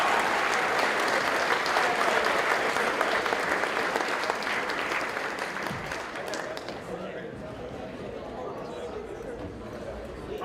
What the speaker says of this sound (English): One more round of applause for Norwell High School.